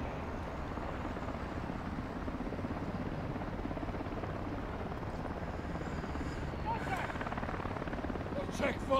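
Helicopter in Call of Duty: Modern Warfare II giving a steady, dense rotor and engine drone that holds at an even loudness throughout, with faint game sounds rising near the end.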